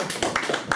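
A handful of claps from a press conference audience, several separate sharp hand claps spaced unevenly over a brief moment.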